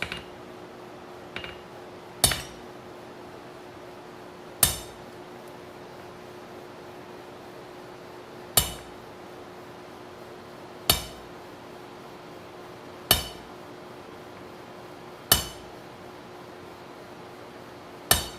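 A metal bar is hammered on the edge of an anvil during a forging session, each blow a sharp, ringing strike landing about every two seconds, eight or so in all, against a quiet shop hum.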